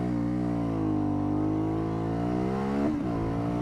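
A 2018 Aprilia Shiver 900 motorcycle engine, in sport mode with traction control off, revs hard and climbs steadily in pitch as it accelerates, loud and close, with a brief dip near the end.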